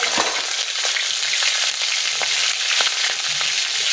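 Slit green chillies fry in hot oil with nigella seeds, a loud continuous sizzle dotted with sharp crackles and spits, close and steady throughout.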